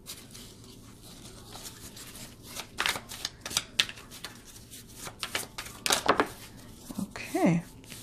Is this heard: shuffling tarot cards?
yes